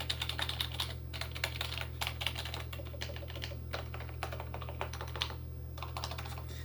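Rapid, steady typing on a modified membrane keyboard with lubed stabilizers, cheaply bought secondhand, giving soft, muted keystroke clicks over a low steady hum, with no talking.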